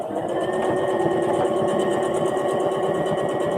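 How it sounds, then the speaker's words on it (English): A domestic sewing machine runs steadily and close, its rapid needle chatter stitching through thick fabric for a machine cover without pause. "Now I did backstitch that part."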